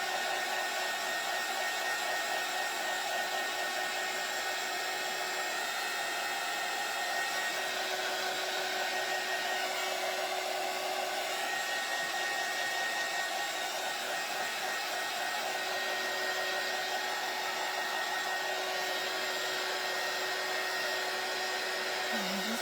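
A hair dryer blows steadily on a craft Christmas door hanger to set its glued pieces, a continuous, even whir with no pauses or voices.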